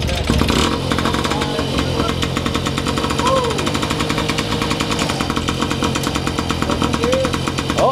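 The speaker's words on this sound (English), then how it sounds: "He's gonna try to put it in gear, it looks like, with the hand shifter." A vehicle engine runs at a steady idle with a regular mechanical rhythm while it is put into gear with a hand shifter in a shop. Voices talk over it throughout.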